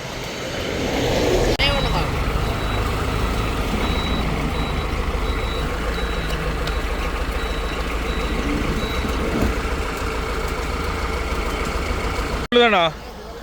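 An old van's heavy engine idles and rumbles steadily throughout, with a faint repeating beep above it and a brief clatter near the end.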